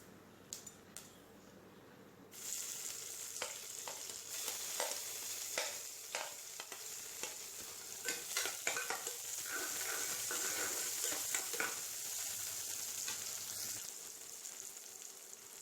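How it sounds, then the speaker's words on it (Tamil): Sliced onions sautéing in hot oil with cinnamon, cardamom and cloves for nombu kanji, a steady close sizzle that starts abruptly, broken by repeated scraping stirs of a spoon against the pan, with no talk. "இதெல்லாம் பொரிஞ்சாக்கில் நம்ம வெங்காயம் சேர்த்து வதக்கிடலாம்."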